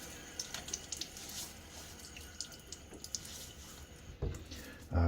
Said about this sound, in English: Let me throw a little bit of water on my face.